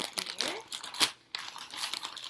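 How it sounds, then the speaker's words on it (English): A plastic bag holding craft supplies crinkles and rustles in close, irregular bursts with a short pause midway. "So everything's going to come in like a plastic bag."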